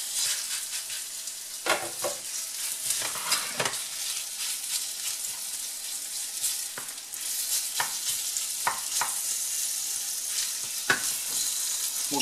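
Butter melting into hot oil in a frying pan while making chicken with mushroom and curry sauce, a steady close sizzle and crackle with scattered sharp pops and spatters throughout.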